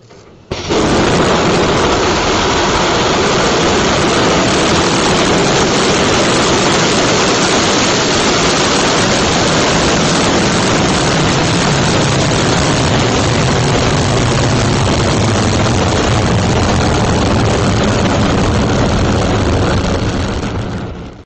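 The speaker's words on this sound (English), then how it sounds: "Electron will be travelling faster than the speed of sound as it approaches its first mission milestone" An Electron rocket ascends after launch, its engine producing a loud, continuous broadband roar that rises abruptly, holds steady for about twenty seconds and then cuts off, with no voices.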